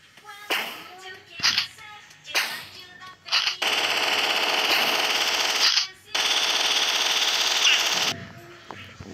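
Automatic gunfire in the video game Chicken Gun, loud sustained bursts of rapid shots, preceded by shorter clicks and a few brief shots.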